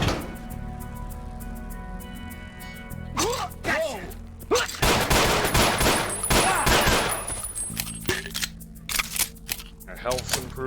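Heavy booming shots and impacts from a shotgun in the video game Ashes 2063 come in clusters over a steady game hum, loud and close, with someone talking through part of it.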